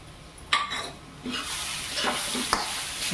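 Chopped coriander is stirred into sushila, a puffed-rice breakfast dish, in a pan: a sharp clack of the spoon on metal, then rustling scrapes and a gentle sizzle with another knock, close and without talk.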